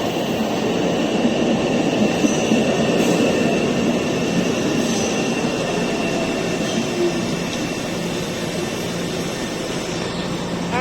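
An MBTA commuter train rolls slowly into North Station in Boston, a steady, loud rumble and rail hum filling the platform throughout, with faint squeals and no talk.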